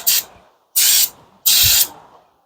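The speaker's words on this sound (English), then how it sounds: "Some brake cleaner for that mold." Three short bursts of aerosol brake cleaner hiss close by as it is sprayed onto a mold during a Honda Odyssey battery replacement, each blast about half a second long with brief silent gaps between.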